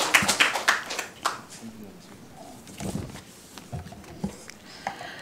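An audience at a public debate forum on flag-raising at Gwanghwamun Square breaks into a short burst of clapping that quickly fades, with a voice talking over and after the applause.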